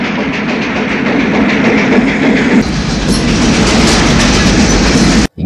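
Train rolling steadily into a railway station, a loud continuous rumble with rhythmic wheel clatter over the rails, cutting off abruptly near the end.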